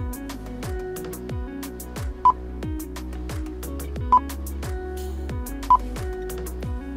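Three short, sharp tones sound at regular intervals over steady background music from a car's Android multimedia player with a Bluetooth hands-free function, as a phone call is dialed from a Peugeot 307 dashboard unit.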